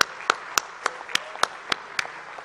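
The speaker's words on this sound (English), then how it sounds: "Give a big round of applause for him." Sparse audience clapping at a fintech festival event in Mumbai, about eight distinct claps spaced evenly over a few seconds, thin and somewhat distant rather than a full ovation.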